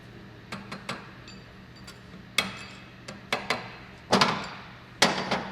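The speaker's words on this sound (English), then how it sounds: "you only have to tap it with a hammer" A hammer taps on a part being assembled in an auxiliary transmission, making sharp, close metallic knocks in uneven groups of one to three, with short quiet gaps between strikes and no talking.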